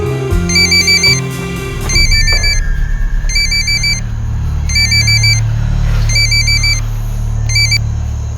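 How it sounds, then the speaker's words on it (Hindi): A mobile phone ringtone repeats in short bursts of bright electronic beeps, loud and close, with a low engine-like rumble and music underneath. "रिंग जा रही है सर"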